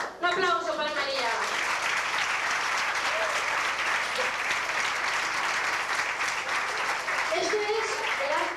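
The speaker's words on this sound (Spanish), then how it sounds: "Un aplauso para María." An audience at a Valencian falla ceremony naming a madrina breaks into dense, sustained applause that fills the whole stretch, with a voice speaking over the start and end.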